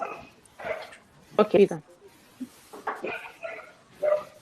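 A dog barks in short yips and bow-wows during a casual conversation at a meal, the barks fairly close and mixed in among people talking.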